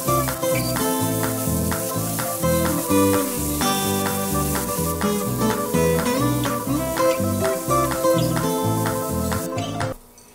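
Spices with salt, turmeric and chili powder frying in oil for an Odia coconut vada curry: a loud, steady sizzle runs throughout under rhythmic background music, cutting off abruptly near the end.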